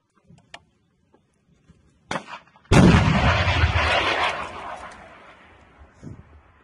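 A military missile is fired with a sudden deep blast and roaring launch rush that fades over a few seconds, preceded by a sharp click and faint voices, heard outdoors in a combat setting.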